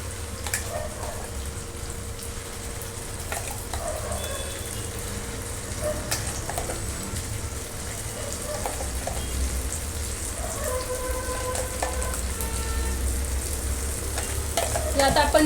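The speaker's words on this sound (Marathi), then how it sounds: "आता आपण वाटलेली पेस्ट घालणार आहे." A ground paste containing Kashmiri chili sizzles steadily in a frying pan as it is stirred for paneer do pyaza, with a continuous close crackle and occasional clinks of the spoon.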